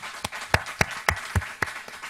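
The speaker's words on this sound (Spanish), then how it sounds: "un fuerte aplauso para ellos" A small audience at an experience-sharing forum claps for two presenters, a sparse handful of distinct claps landing in a loose rhythm, fairly close and clear with quiet gaps between them.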